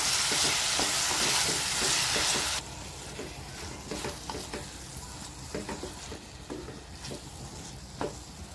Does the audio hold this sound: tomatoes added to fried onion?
yes